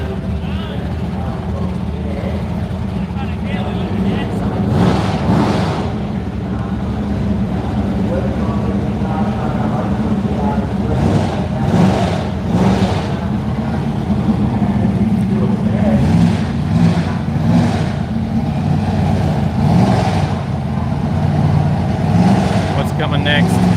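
Radial-tire drag racing cars at an Australian track roar off in repeated bursts of engine revving. A commentator talks over the loud, surging runs.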